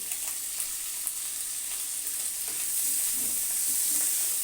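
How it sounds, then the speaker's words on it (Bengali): Prawns stir-fried with salt and turmeric, a steady faint sizzle of frying with soft scraping of stirring, continuous and close, without talk. "এবারে সব একসাথে এরকম একটু নেড়ে সেড়ে হালকাভাবে আমি একটু ভেজে নেব"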